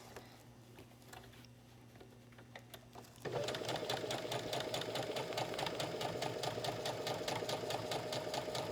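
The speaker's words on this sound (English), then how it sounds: "stitch down your lines" Domestic sewing machine stitching down quilting lines on a quilted tablet cover backed with fusible foam, starting partway through with a steady fast rhythmic whir and ticking that runs loud and close until the end.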